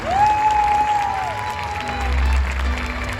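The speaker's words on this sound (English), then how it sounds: "So she deserves a huge round of applause." An audience at a school event gives a round of applause, a steady patter of clapping heard alongside a sustained whistle-like tone and some crowd noise, lasting a few seconds.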